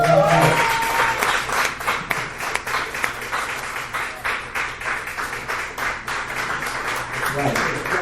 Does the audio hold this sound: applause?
yes